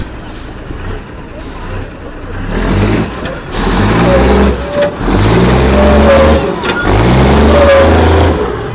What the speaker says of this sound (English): So we'll just see how close to Christopher we can come with the truck.